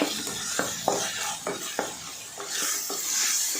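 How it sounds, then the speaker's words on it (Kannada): Tomatoes frying in oil in a pan for a tomato saaru, stirred with a spoon: a bright, close sizzle with rhythmic scraping strokes and occasional clinks, and no talking. "ಎಣ್ಣೆಯಲ್ಲಿ ಟೊಮೊಟೊ ಎಣ್ಣೆ ಚೆನ್ನಾಗಿ ಫ್ರೈ ಆಗಿದೆ"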